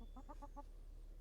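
Backyard chickens in a hoop-style chicken tractor give four quick, evenly spaced clucks close by, then fall quiet over low background hum.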